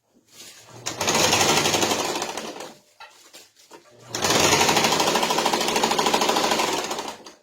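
A sewing machine stitches fabric for a Tilda sheep toy in two loud, close bursts of fast buzzing needle clatter, separated by a short pause with faint handling sounds.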